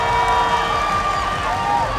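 A crowd at a Max Muay Thai kickboxing event, Japan versus Thailand, cheers for the fighters in a dense, steady roar, with an announcer's raised voice and whistles riding over the top.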